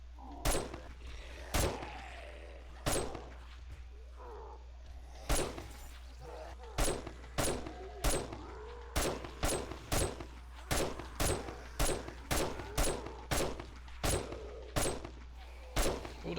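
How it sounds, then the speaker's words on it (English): Gunfire in the survival video game 7 Days to Die while a horde base is defended: about twenty sharp single shots, spaced irregularly at first and then in a quicker, steady rhythm over a quiet background. "I'm going to shoot him in the legs"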